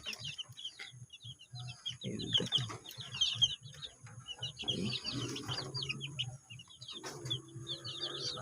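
Faint chickens clucking with soft chick peeping calls in a brooder, fairly distant over a steady low hum, and a little quiet talk now and then.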